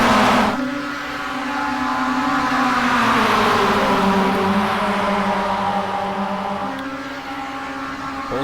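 Mazda MX-5 Cup race cars roar off at the start of a 75-lap iRacing race at Charlotte, engines revving and shifting up in pitch, a loud close drone of several cars together.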